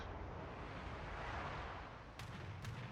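Heavy ship guns fire in a naval battle video game, a dense roaring boom with rumbling wash, followed by two sharp cracks near the end.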